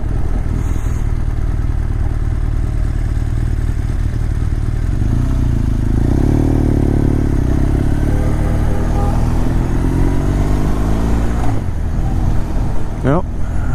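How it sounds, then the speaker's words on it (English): A big bunch of Harley-Davidson motorcycles passes on a road near Venise-en-Québec, heard as a loud rumbling engine drone from inside a moving vehicle, swelling midway under steady road noise. "Big bunch of Harleys."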